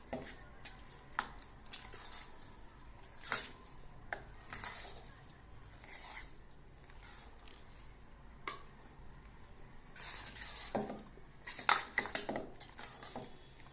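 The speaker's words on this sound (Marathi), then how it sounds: "आता थोडंसं मी चक्क्याला जरा फेटून घेणार आहे।" A spoon works hung curd (chakka) in a bowl for shrikhand, giving soft intermittent scraping and clinking against the bowl, with a few sharper clatters between quiet strokes.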